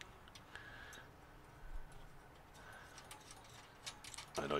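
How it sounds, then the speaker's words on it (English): Nuts and bolts are being fastened onto a Santa Maria grill attachment for a Kamado Joe Kettle Joe, making faint, scattered metallic ticks and small clinks over a quiet background, with one louder rattle at the end. "I'm putting nuts and bolts together."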